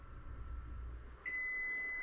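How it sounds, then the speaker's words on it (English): Kitchen timer going off while steak rests, a single steady electronic beep starting partway through and holding over low background room noise. "Okay, so our timer has gone off."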